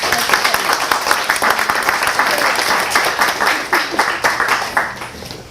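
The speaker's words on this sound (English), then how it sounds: "Let's give them a round of applause." An audience at a talk on farmers and social media claps in dense, sustained applause that holds steady for several seconds, then thins toward the end.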